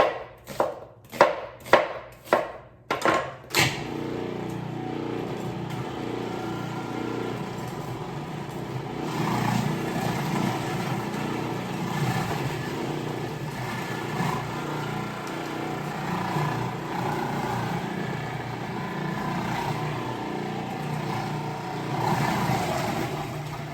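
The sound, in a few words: food processor chopping red onion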